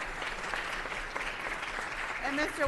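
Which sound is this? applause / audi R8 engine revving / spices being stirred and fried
applause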